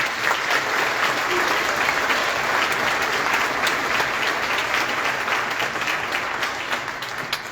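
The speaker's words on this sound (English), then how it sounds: "So give them one round of applause." Concert audience applauding a 7th grade school band, steady dense clapping throughout, loud and sustained with a slight fade at the end.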